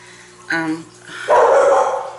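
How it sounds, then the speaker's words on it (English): Indoor dogs bark in a short burst, then a louder, harsher run of barking follows close by, a nervous outburst with no talk over it. "my dogs are flipping out again"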